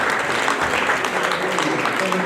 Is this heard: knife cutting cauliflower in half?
no